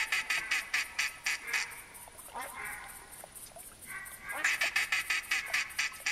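Ducks in theHunter Classic hunting game: a rapid string of loud, nasal quacks at the start, a quieter stretch with some talk, then another burst of repeated quacking near the end.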